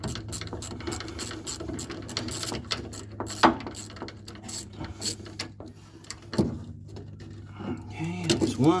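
A socket wrench ratchets on a brake line fitting at the brake cylinder of a 1962 Ford Falcon, clicking in short bursts between pauses, close up, with a person talking over parts of it.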